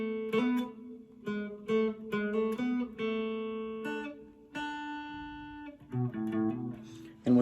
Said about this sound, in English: Then you're on the turnaround section,